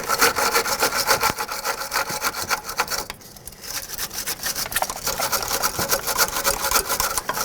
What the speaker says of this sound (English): I will clean these threads with a wire brush at this point.